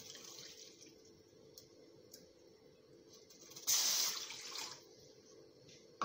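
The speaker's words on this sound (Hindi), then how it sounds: "एक कप पानी ले रही हूँ" Water poured out for sugar syrup, heard as a short burst of tap water splashing into a cup in a quiet kitchen, then a brief splash at the end.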